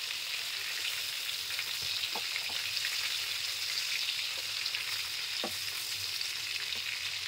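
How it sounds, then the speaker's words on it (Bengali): Prawns fry in oil over a medium flame, a steady close hiss of sizzling that holds evenly throughout, with a few faint spoon scrapes and no voices. "তার 30 সেকেন্ড চিংড়ি মাছগুলো একটু ভেজে নিতে হবে।"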